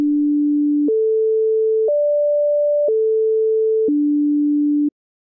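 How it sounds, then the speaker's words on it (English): A pure sine wave oscillator plays five sustained notes in turn, stepping up and back down, each about a second long, clean and steady, then silence. "Here's a sine wave oscillator playing a few notes."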